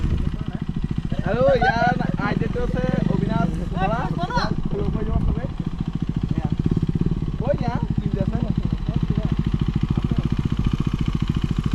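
KTM Duke 390 motorcycle engine running at a low, steady throb throughout, ridden slowly, close by, with people talking over it for the first half and the engine rumbling on alone afterward.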